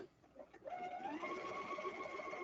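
A Bernina sewing machine stitches a seam in a men's ballet shirt at a short stitch length, whirring steadily and close after a brief start, running continuously with no talk.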